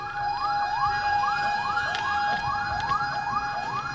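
A fire truck siren wails in repeated rising sweeps, steady and fairly loud, over a low traffic rumble, after a motorcycle collided with the fire truck.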